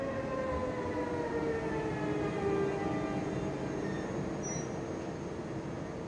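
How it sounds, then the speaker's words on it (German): A locomotive-hauled Regional-Express train from Hamburg pulls into Rostock Hbf, its wheels letting out steady high, drawn-out squeals over a continuous rumble, heard fairly close with no talking. "Einfahrt hat ein Regionalexpress aus Hamburg, eine der mittlerweile wenigen lokbespannten Leistungen."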